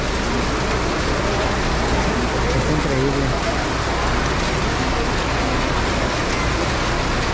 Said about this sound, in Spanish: el granizo está todo lo que da